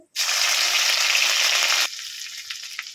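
Ginger and green chili paste hits hot oil in a pan with a sudden loud, bright sizzling burst that holds steady, then drops abruptly to a quieter crackle with faint stirring.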